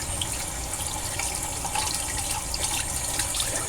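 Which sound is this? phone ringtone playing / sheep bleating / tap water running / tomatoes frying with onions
tap water running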